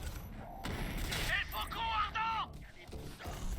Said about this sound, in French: il fait pas de dégâts le fusil à pompe